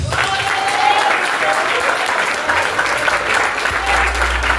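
A church congregation claps steadily and continuously, a dense wash of applause with a low rumble entering near the end.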